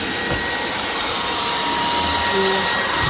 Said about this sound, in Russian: я, если честно, от пылесоса в восторге. Напоминаю, что это Red Road V17